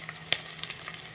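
Garlic frying in a pan with a green chilli gives a soft, quiet sizzle, with a brief scrape or clink of a utensil and a few small pops over a low steady hiss.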